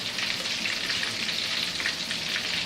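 Meat skewers (patychky) frying in hot oil give a steady, dense sizzle with crackling pops throughout, close and continuous with no voices.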